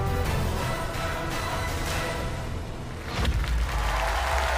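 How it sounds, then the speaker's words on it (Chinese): Steady studio audience applause for singer Meng Ran after his self-written song on a CCTV Spring Festival Gala qualifying show, a continuous wash of clapping that swells slightly near the end. "祝梦嘉宾团也在给你鼓掌"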